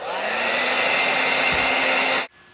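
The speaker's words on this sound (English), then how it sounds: "Blow dryer." A handheld blow dryer, used during eye makeup, runs with a loud, steady whooshing hum for about two seconds, then switches off abruptly.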